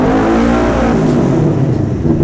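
A CFMoto NK400 motorcycle engine revs loudly and close with throttle applied, a strong, steady droning roar that slowly settles and wavers toward the end.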